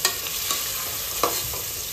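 Chopped onion sizzles steadily in a hot pan, a soft continuous frying hiss with a few faint stirring clicks, no voices.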